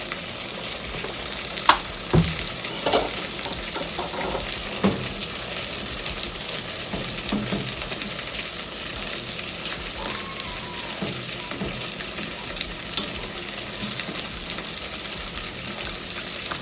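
Turmeric is stirred into vegetables frying in a pan, a steady close sizzle running throughout with occasional spoon scrapes and clicks, no talking.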